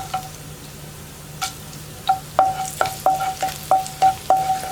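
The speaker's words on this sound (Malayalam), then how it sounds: "ഇഞ്ചി ഒന്ന് ചൂടായി തുടങ്ങുമ്പോൾ നമുക്ക് ഒരു 3 വറ്റൽമുളക് കട്ട് ചെയ്ത് ചേർത്ത് കൊടുക്കാം" Ginger and cut dried red chillies fry in a pan with a steady close sizzle, while a utensil knocks against the pan in a regular series of sharp taps.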